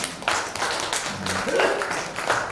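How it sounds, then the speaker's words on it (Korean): An indoor lecture audience claps together, producing a dense, uneven burst of hand claps that fills the room at moderate loudness, with brief speech mixed in. "동의하시면 박수 한번 쳐주시면 됩니다"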